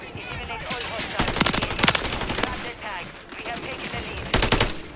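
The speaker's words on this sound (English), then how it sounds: "Taking effective fire." Rifle gunfire in the survival game Rust, from a marksman or battle rifle: several loud, rapid bursts of sharp shots, with quieter stretches of scattered firing between them.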